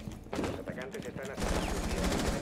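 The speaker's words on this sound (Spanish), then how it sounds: "os enseño las ametralladoras, tío, porque de verdad que son una completa locura" Rapid bursts of machine gun fire from the video game Rainbow Six Siege, dense and continuous, loud and close, with a voice faintly under the shooting.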